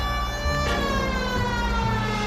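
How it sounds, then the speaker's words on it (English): A police car siren wails in the video game L.A. Noire, a loud, sustained rising and falling tone layered over engine and traffic rumble throughout. "Let's get a siren on"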